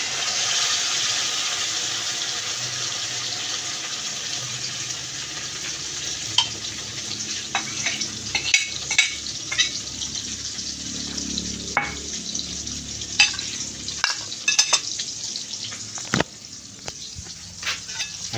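Eggplant omelette (tortang talong) frying in a pan, a steady broad sizzle with scattered crackles and pops, close and fairly loud throughout, with no voices.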